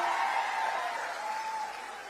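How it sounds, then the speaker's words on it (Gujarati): Audience applause at a political rally in Gujarat, a steady wash of many hands clapping throughout, fairly distant and diffuse, slowly tapering toward the end. "અમને પણ એકવાર તાળીઓથી વધાવીશું"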